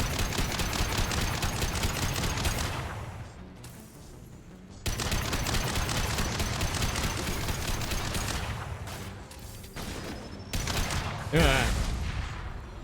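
Sustained automatic gunfire in Mass Effect 2, dense rapid bursts filling most of the stretch with a brief lull, then a sharp loud blast near the end; a voice talks faintly underneath.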